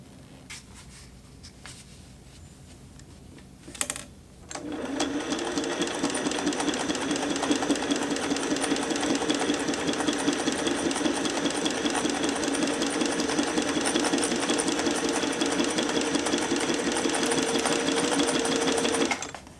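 A Singer 401A sewing machine stitches lightweight upholstery leather, starting after a short quiet pause and a click, then running in one steady, fast mechanical whir that continues for about fifteen seconds.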